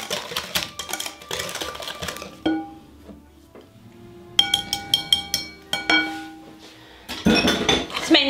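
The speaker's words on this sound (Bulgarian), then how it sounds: "Отново разбъркваме течните съставки." Liquid ingredients for gingerbread cookies being stirred in a bowl, with bursts of quick metallic clinks and scraping of a whisk against the bowl, separated by short pauses, close and clear with no talking.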